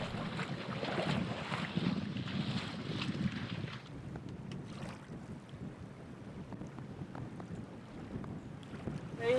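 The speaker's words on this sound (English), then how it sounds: "we still enjoy pulling up anchor under sail" Steady wind rush and sloshing water aboard a sailboat pulling up anchor under sail, heavier in the first few seconds, then a calmer hiss with no voices.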